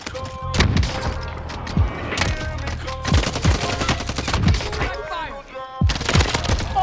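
Gunfire in the Warzone video game comes as repeated loud bursts and single sharp shots, close and intense, with voices and radio callouts in between.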